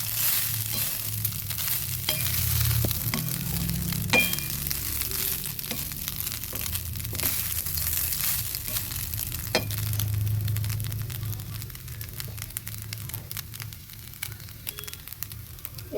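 Cooked rice for lemon rice is stirred and tossed in a pan, making soft scrapes, light sizzling and occasional sharp clicks of the utensil against the pan, fairly quiet and close, with no talking.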